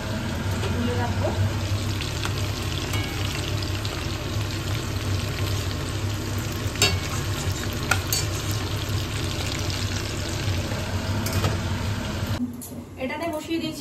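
Chicken pieces frying in hot oil, a steady close sizzle with occasional stirring clatter and a faint running tap, ending abruptly near the end.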